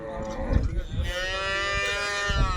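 A cow lets out a long, drawn-out moo close by at a livestock fair, with some low rumbling handling noise underneath.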